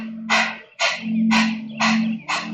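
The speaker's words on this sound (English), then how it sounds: "So pressing all the breath out, and then the inhalation comes automatic." Five forceful yoga breaths are pushed out through the nose at a steady rhythm, each a sharp, hissing burst over a low, continuous hum, close and fairly loud.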